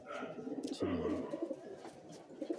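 A male pigeon with red-ringed eyes coos in a low, soft, rolling call that comes up close in short bursts.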